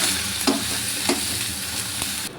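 Black cumin, garlic and leaves frying in a pan while being stirred, a steady close sizzle broken by three distinct scrapes of the spoon across the pan, spaced about half a second apart.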